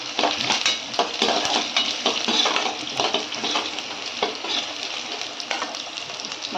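Garlic and cashews fry in oil, sizzling and crackling steadily in a pan while a utensil stirs and scrapes, with bursts of spattering close up.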